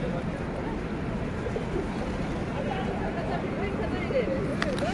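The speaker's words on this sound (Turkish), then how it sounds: "her tarafımız kuş oldu" Outdoor pigeons being fed with birdseed, soft cooing and bird calls mixed into a busy open-air background, with people talking throughout.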